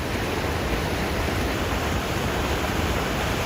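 A strong stream current in Meemure rushes loudly and steadily, a dense, unbroken hiss of flowing water close by with no other sounds above it.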